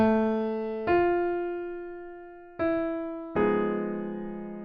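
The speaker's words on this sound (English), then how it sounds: "the Tristan chord, which sounds like this." The Tristan chord on piano: sustained chords ring out one after another, each struck firmly and left to decay, the harmony shifting tensely without resolving.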